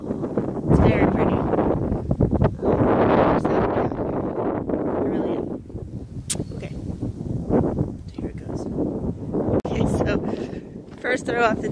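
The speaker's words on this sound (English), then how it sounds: "It's windy." Gusty wind buffets the microphone on a cold open disc golf course, rumbling in strong surges and lulls, with a person talking intermittently over it.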